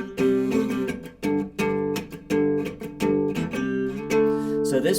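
A chorus riff played as power chords on guitar, with short strummed chord hits in a bouncy repeating rhythm, close and alone.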